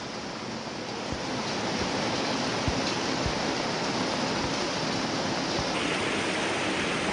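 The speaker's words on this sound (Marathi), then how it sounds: "वा वा वा पाऊस पाऊस" First monsoon rain falling in the Konkan, a loud, dense, continuous rush of heavy downpour that fills the whole clip, steady and close with no talk.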